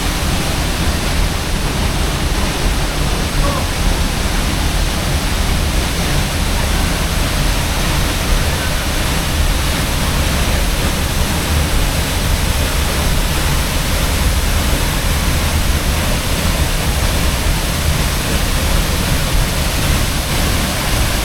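Tunasan Falls, a waterfall on Camiguin island, roars in a dense, steady broadband rush of falling water that stays loud and unbroken throughout, with no voices over it.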